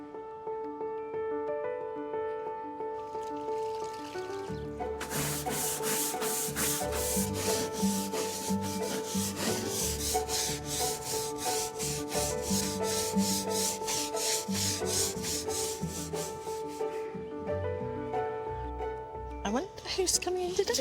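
Vigorous scrubbing of a painted wooden guitar being cleaned in a repair workshop, a loud rhythmic rubbing run through the middle, with quieter handling before and after.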